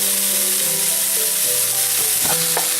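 Large pieces of chopped onion sizzle in a pan, a loud continuous hiss with a faint background hum and brief clatters of stirring near the end.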